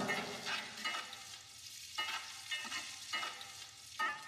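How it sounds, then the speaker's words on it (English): Lamb chops sear in a pan with butter and garlic, a close, crackling sizzle that flares in several sharp bursts as the pan is moved, with no talk. "Butter goes over, garlic, and we'll give them a really nice sear"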